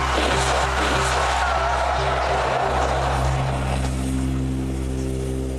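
A car skids to a halt as a spike net wraps around its front tires, a loud sustained tire scrub and engine drone close by that eases off toward the end.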